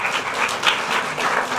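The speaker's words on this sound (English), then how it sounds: "I want you all to give yourselves a round of applause for just being here." Audience at a Commonwealth Day observance applauding steadily, a dense wash of clapping from many hands with no talk over it.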